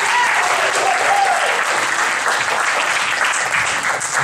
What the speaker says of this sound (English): how about a big hand, too, for the person who does our video